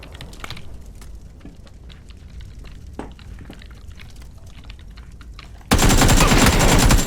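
Beryl M762 assault rifle fire in PUBG, a string of rapid gunshots crackling under constant background noise, ending in a very loud, dense burst of fire at close range.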